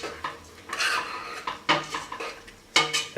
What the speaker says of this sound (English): And again, we keep on stirring.